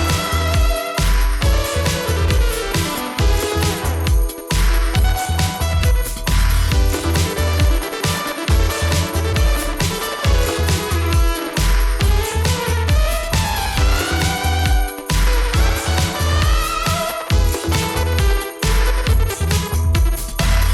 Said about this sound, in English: That sound is the Gamechanger Plasma.